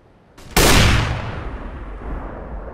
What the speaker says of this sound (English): Throwing a flashbang. I'm throwing a flashbang.